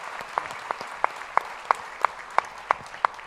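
Sparse, evenly spaced hand claps, about ten sharp slaps at a steady rhythm, faint over a quiet room hum at a plenary panel on 40 years of the LGBTI movement in Brazil.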